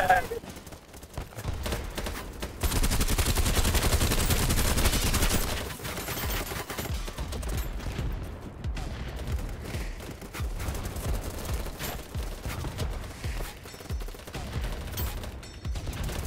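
Gunfire in the first-person shooter BattleBit, with bursts of automatic fire mixed in with the din of battle and voices shouting over the shooting.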